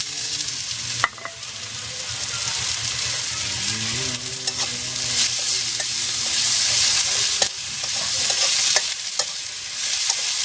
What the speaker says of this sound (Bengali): দিয়ে দেবো কয়েকটা কাঁচা লঙ্কা, সরষের গোটাটা দিয়ে দিচ্ছি।